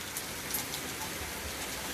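Steady rain falls on a rainy day, a dense even hiss of drops on surfaces with no break, close and constant throughout.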